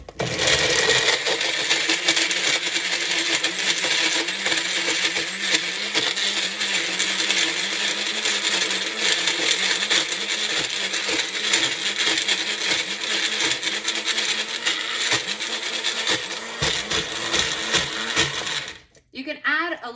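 Small kitchen machine blending pesto sauce with oil, a loud continuous whirring grind with rhythmic rattling pulses, cutting off abruptly near the end.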